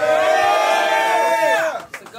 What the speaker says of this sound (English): Make some noise for BSOUL.